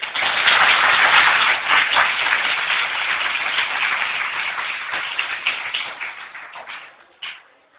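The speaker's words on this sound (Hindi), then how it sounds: "ताली चाहिए" A classroom or lecture audience bursts into dense, loud applause that holds steady for several seconds and then thins out into scattered claps before fading.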